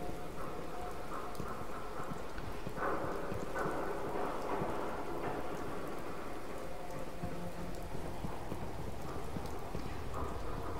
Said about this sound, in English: New gloomy rainy days.